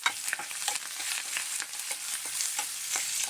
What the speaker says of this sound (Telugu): అల్లం కరివేపాకు పులుసు వేసుకోవాలి అది కూడా వేయించానండి